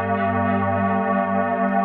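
After Sun preset on the Native Instruments FM8 software synth, a sustained chord with a rich stack of steady harmonics, holding evenly at full level for about two seconds with no talking.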